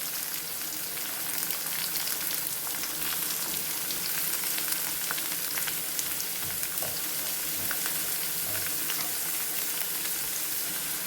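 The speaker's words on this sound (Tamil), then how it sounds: "இதை நம்ம நல்லா வதக்கிக்கலாம்." Chopped onions, green chillies, curry leaves and garlic sizzle steadily in hot oil in a pan, a dense continuous crackle and hiss close up with occasional stirring scrapes.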